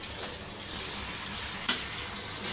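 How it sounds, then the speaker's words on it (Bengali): Chilli and turmeric powder frying in a pan while being stirred, a steady close sizzle with a few soft scraping strokes and no voices. "মরিচের গুঁড়া, হলুদের গুঁড়া দিয়ে দিলাম। নাড়াচাড়া করবো, কষিয়ে নিব আমি একটুখানি"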